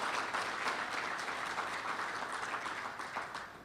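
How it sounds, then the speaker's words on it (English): Sustained applause for committee members at a community appreciation celebration, a dense steady wash of many hands clapping throughout, fairly close and even in level. "I want to take a moment to give one more round of applause to all of our committee members"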